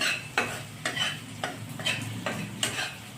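Gram flour roasts in a pan with a soft continuous sizzle, while a spatula makes about six evenly spaced scraping strokes up close and no one speaks.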